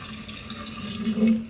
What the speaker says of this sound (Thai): แล้วก็เทน้ำตามลงไปด้วยนะคะ เทให้ท่วมหน่อไม้นะคะ